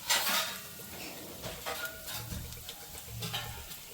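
Masala for a chole curry fries in a pan after two or three spoons of oil are added, giving a soft sizzle with utensil scrapes and clinks against the pot, steady at moderate level with no talk.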